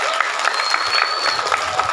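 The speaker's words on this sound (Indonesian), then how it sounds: "Tepuk tangan untuk guru SD." An audience claps for primary school teachers at a stage event, giving a short burst of loud, busy crowd applause with a few sharper claps standing out and faint voices underneath.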